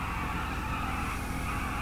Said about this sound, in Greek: Όπα, το μηχανάκι.